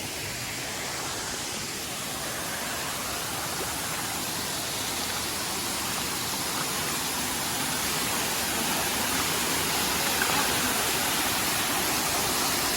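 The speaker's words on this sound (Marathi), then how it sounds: "आमचा गावातला धबधबा आहे" A village waterfall in a forest setting near Mopa airport gives off a constant, full roar of falling water, steady and close throughout with no voices.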